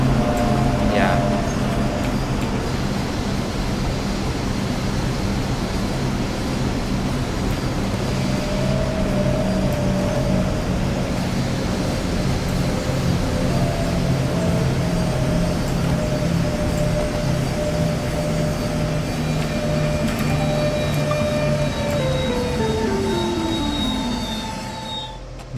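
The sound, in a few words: S-Bahn train accelerating through Leipzig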